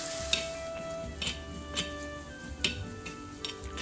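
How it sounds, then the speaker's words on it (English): Grated coconut and curry leaves sauté in a pan for a beef curry roast, a steady close sizzle broken by sharp ticks of a stirring spoon about every half second, with no voices. "Add few curry leaves on the top and saute it until it is golden in color."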